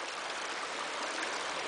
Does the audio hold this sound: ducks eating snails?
no